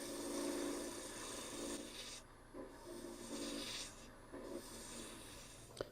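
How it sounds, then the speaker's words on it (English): Spindle roughing gouge cutting wood on a lathe while turning a wooden pie server, a steady close hissing, rasping scrape with faint periodic pulses from the spinning workpiece, quiet and continuous with no talk. "now I think I'm going to switch back to the spindle roughing gouge"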